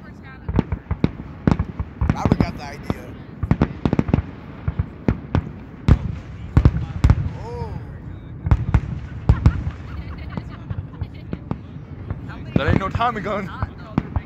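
Fourth of July fireworks pop and crack in a rapid irregular string, loud sharp bangs close by, with people talking and shouting between the blasts.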